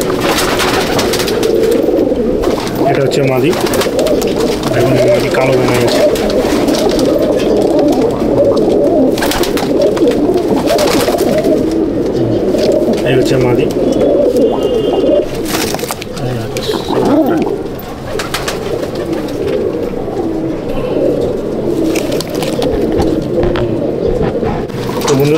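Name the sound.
pigeons cooing in a loft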